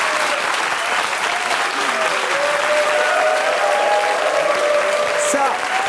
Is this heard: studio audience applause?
yes